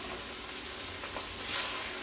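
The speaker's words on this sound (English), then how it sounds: "We got the onions sauteing" Chopped onions sauté in a pan for beef short ribs, giving a soft, steady, continuous sizzle that stays fairly faint and even throughout, with no voices.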